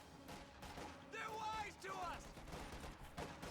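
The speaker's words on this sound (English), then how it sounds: "50 cal machine gun stopping the approaching infantry on the north" Bursts of .50 cal machine gun fire rattle in the Company of Heroes 2 battle game, layered with other gunshots and battle noise while a commentator talks over it.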